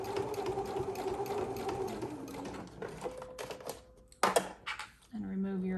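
A sewing machine stitches close to the edge of a thick, clipped quilted box bag, running in a steady loud whir that pauses, gives a few short bursts with clicks and a hum, then resumes; a voice speaks briefly near the end.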